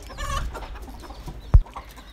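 Elba chickens in a cage give soft, short clucks close by against a quiet background, with one sharp knock or thud partway through.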